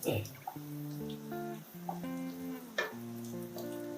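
Sabudana vada fries in a pan until golden-brown. A soft, steady oil sizzle with faint crackles runs beneath a person talking throughout.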